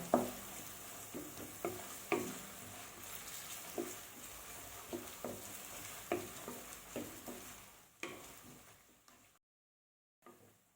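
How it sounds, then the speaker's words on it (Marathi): Sliced onions fry in oil toward browning with a low sizzle, while a spoon scrapes and knocks rhythmically roughly every second. The sound thins out and drops to near silence near the end. "हे कांदे जे आहेत ते तेलात व्यवस्थित भाजून घ्यायचे. चांगला ब्राऊन होईपर्यंत आपल्याला हा कांदा भाजायचा आहे."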